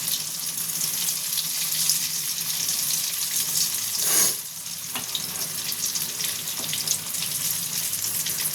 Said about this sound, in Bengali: এটা বেশ আমি লাল লাল করে ভাজবো ধোকাটা।